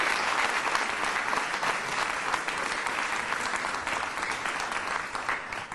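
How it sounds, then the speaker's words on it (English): An audience claps steadily for award nominees at a 2012 Australia Day citizen awards ceremony, an even, dense round of applause that holds at the same level with no voices over it. "If we could give them all a round of applause for the nominees."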